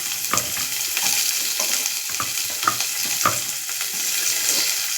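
Onions frying in oil with cloves and bay leaf, a steady broadband sizzle with repeated sharp stirring scrapes of a spoon in the pan, close and continuous.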